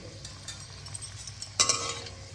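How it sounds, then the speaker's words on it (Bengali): Malpua batter dropped into hot white oil, giving a soft crackling sizzle that swells suddenly partway through as the batter hits the oil, close and alone. "তেলটা গরম হয়েছে কি সঠিকভাবে সেটা জানার জন্য আমি একটু এই মালপোয়া ব্যাটারটা এর মধ্যে ছেড়ে দিচ্ছি"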